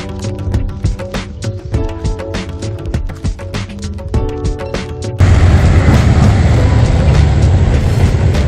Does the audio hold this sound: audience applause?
no